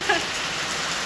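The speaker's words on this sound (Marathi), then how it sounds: "तर आता इथे पाऊस एवढा भरपूर आहे" Heavy rain falls outside a temple in Bhiwandi, a dense, steady hiss of drops striking surfaces with one brief tonal squeak at the start.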